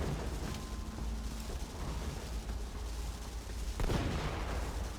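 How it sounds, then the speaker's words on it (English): Explosions in the video game Borderlands 2, a dense crackling rumble of blasts throughout with a sharper, louder burst near the end, no talk. "I don't know what those explosions are."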